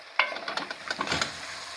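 A spoon stirs spices into a bolognese sauce in a pan, making close, soft scraping and wet stirring sounds over a light sizzle, with no talk.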